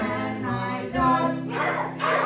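Over a tune, children mimic dog barks with two quick vocal woofs, fairly loud and close.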